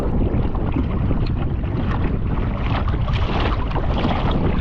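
A loud, steady motorboat engine roar mixed with rushing water and wind buffeting, continuous and close throughout, on a kayak outing.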